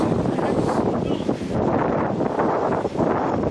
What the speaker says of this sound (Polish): Biornoja nas przywitała wiatrem i to on jest całkiem silny.